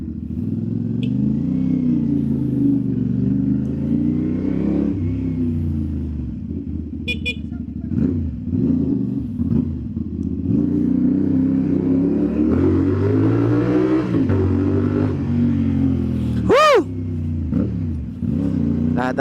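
A 450 SR motorcycle ridden along the NLEX expressway, its engine droning loud and close with rising and falling pitch under steady wind roar, and a brief horn-like toot near the end.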